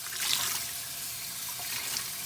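Hot water runs and splashes steadily as a microfiber cloth is soaked, a close, continuous hiss of liquid with no speech.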